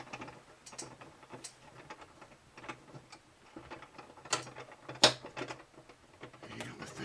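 Clamps are tightened a little at a time during an acoustic guitar bridge glue-up, giving faint, irregular ratcheting clicks and small metallic ticks in a workshop, with one sharper snap near the end.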